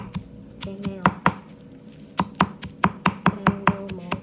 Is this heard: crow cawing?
no